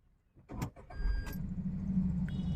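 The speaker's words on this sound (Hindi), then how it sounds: "अब एक बार गाड़ी को स्टार्ट कर लेते हैं।" Inside the cabin of a petrol Tata Tiago, a brief clunk and whir of the starter leads into the engine catching, then settling into a steady low idle hum that continues to the end.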